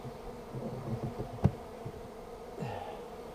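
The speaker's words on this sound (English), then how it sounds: "But they're definitely flying about" Honeybees buzz faintly around a freshly hived colony in April, a soft insect hum with a sharper close pass near the middle and another fly-by toward the end, no talking.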